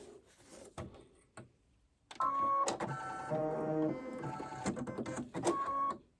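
A machine embroidery unit stitching a satin stitch with thread, starting with a few clicks and taps, then a loud, busy, rhythmic mechanical whirring and chattering that runs several seconds close to the microphone.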